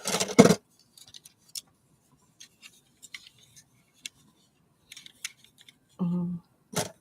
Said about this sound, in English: Children's scissors.